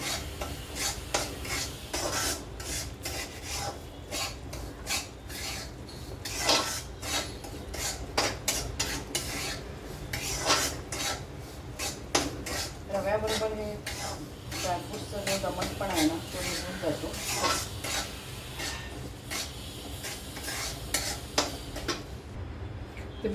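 Semolina is roasted in a pan for laddu while a utensil scrapes and stirs it repeatedly. The scraping is soft and rasping, and someone talks over it.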